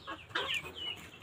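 Three-month-old Brahma chickens on a farm give a short burst of nearby clucking, a few quick rising calls close together with nobody talking.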